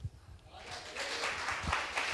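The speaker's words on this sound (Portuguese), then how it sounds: "Você não vai aplaudir?" A church congregation breaks into applause after a brief quiet voice, the clapping swelling quickly into a steady, moderately distant wash that continues to the end.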